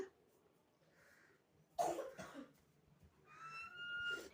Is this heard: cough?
yes